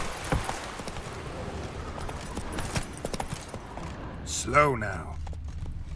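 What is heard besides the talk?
Roach the horse galloping in The Witcher 3 video game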